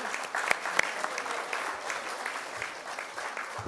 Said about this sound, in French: on pourrait effectivement les applaudir